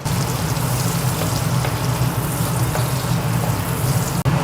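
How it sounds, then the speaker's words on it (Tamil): Onions frying with cumin seeds in hot oil give a steady, close sizzle and crackle throughout, with a single brief clack near the end and no talking. "அடுத்து இதில் பெரிய வெங்காயத்தை சேர்த்துக்கலாம்."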